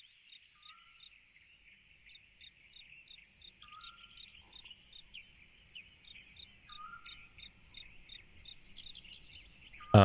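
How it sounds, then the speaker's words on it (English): Birds chirp on a loading screen in the video game Lucius III, with quick, faint, evenly repeating high chirps and occasional short calls over near silence, ending in a sudden louder burst. "First we got birds chirping"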